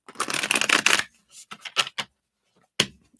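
A deck of reading cards is riffle-shuffled up close in one long crisp burst, followed by a few shorter taps and flicks as the stacks are squared, with no talking.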